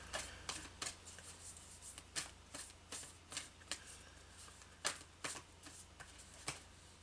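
Angels and Ancestors oracle cards being shuffled by hand close up, a run of quiet riffling bursts repeating at a brisk, uneven rhythm, with no talking.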